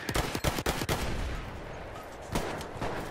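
Battlefield 1 gunfire during online play, a quick burst of several sharp, loud rifle shots followed by scattered single shots and a sniper crack, with a faint distant rumble between them.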